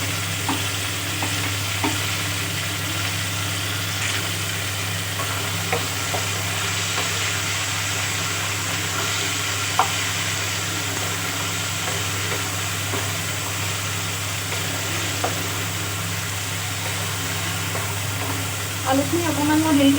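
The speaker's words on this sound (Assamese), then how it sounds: "পিঁয়াজখিনি ভজা হৈ গৈছে। এতিয়া মই কাটি ৰখা বিলাহীখিনি দি দিছোঁ।" Onions and freshly chopped tomatoes fry in a pan with a steady, close sizzle and soft crackling, punctuated by occasional light clicks of stirring, continuing evenly throughout with a constant low hum beneath.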